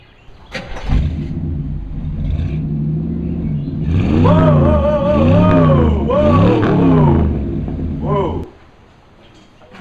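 A late-model Ford Mustang rolls slowly onto a drive-on lift rack, its engine rumbling and briefly revving in a steady nearby drone that cuts off at the end, with people talking over it.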